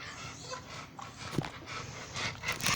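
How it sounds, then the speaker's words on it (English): Several pet dogs pant softly and quickly close by, a rhythmic breathy sound with a faint whimper partway through and no talking. "those are my dogs"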